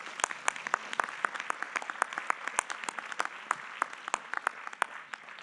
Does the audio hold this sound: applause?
yes